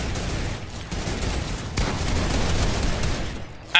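Gunfire in the Fortnite food-fight episode runs as a constant loud stream of shots throughout, with a sharper burst near the middle and a final hit at the end.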